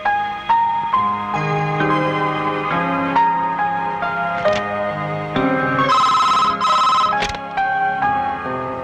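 A melodic phone ringtone plays clearly and loud, a repeating tune of bright electronic tones with no talking over it.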